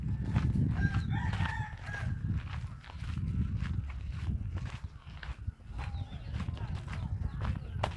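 A rooster crows several times at a rural farm during a midday rest, the drawn-out calls rising over steady low rumbling noise and scattered clopping sounds, with people talking nearby.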